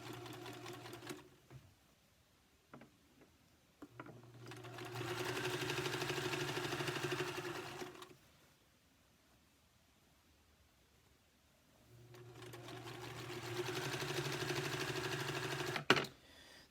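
An electric sewing machine stitches fabric for a gift bag in two steady runs of a few seconds each, a quiet buzzing whir separated by pauses with small clicks and handling noises.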